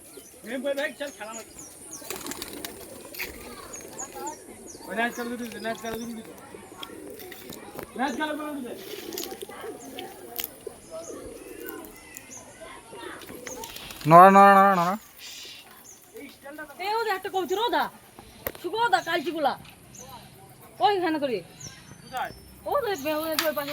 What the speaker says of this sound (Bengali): এখানে সব খাদ ছাদে প্রচুর পায়রা পায়রাগুলো ছাড়া হয়েছে